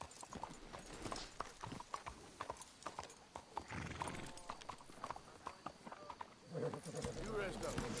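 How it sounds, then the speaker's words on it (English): Horses in the Red Dead Redemption video game clop along at a walk and whinny, close and clear, with a voice talking over the hoofbeats. "Let's hitch the horses up ahead."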